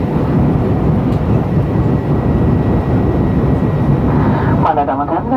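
Inside an Austrian Airlines Airbus A320 cabin before landing, a loud steady engine and airflow roar fills the space, and a voice speaks over the drone near the end.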